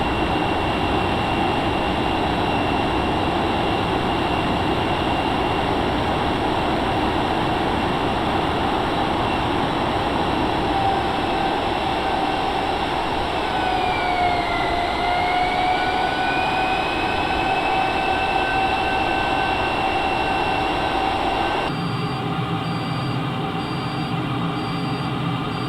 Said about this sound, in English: Scramjets.